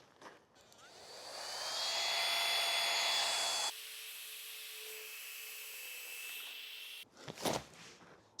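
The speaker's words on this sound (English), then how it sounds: "Why don't I show you what it's like to pump the pad?" An electric pump inflates a NeoLoft sleeping pad, its steady whirring drone rising, then dropping in pitch as the pad fills, before it stops and a short rustle follows.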